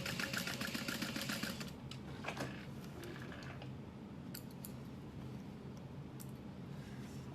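A sewing machine runs back and forth in short back-stitching bursts on a clutch wallet. The close, quiet whirring is steady at first, then gives way to faint clicks and low hum.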